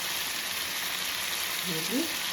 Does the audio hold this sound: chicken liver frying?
yes